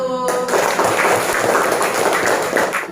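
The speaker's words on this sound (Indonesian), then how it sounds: "tepuk tangan dulu untuk kelompok 1" Applause for a group of students in a classroom lesson, a dense, steady crackle of many hands clapping for about three seconds, fairly loud and continuous, fading slightly at the end.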